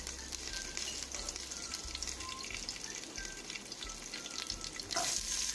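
Vadagam and curry leaves crackle in hot oil with a dense, close sizzle that runs continuously, swelling into a brighter, louder spatter near the end.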